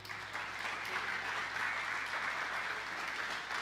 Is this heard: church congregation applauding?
yes